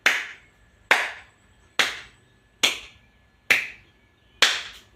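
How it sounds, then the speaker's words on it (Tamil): Six sharp hand claps in a steady, evenly spaced rhythm, done as a clapping exercise; each is close, loud and crisp with a short decay, and no voice is heard. "சரியான உடற்பயிற்சி கைத்தட்டு."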